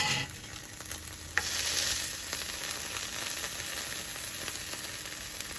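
Egg rounds frying in a pan for a breakfast sandwich, a steady close hiss of sizzling fat with a brief scrape partway through, heard alone without talk.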